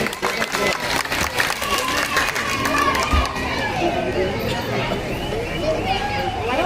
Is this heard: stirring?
no